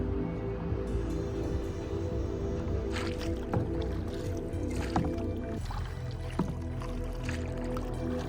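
Kayak paddling on the sea between islands in Cambodia, with steady water wash and a few sharp paddle splashes and drips close by, no talk.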